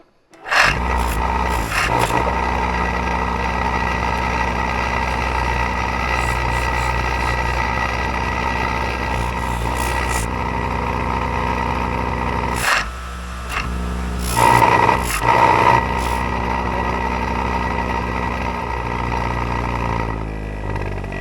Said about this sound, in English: Maybe we should just play with the buffer wheel a little bit and see what kind of outcome we get